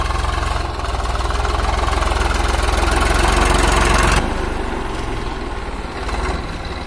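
A heavy diesel engine of an old 1999 Swaraj 735 FE tractor running steadily at low revs, loud and close, with a rough rhythmic chug that drops slightly partway through.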